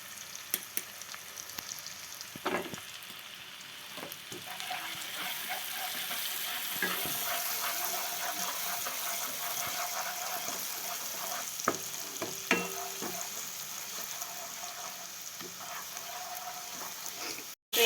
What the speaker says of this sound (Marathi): थोडा कांदा ब्राऊन झाले आपण हळद टाकून घेऊ